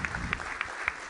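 Audience applause for keynote speaker Patric at a DevOps conference, a steady patter of clapping across the hall with a few sharper, louder claps standing out at regular intervals.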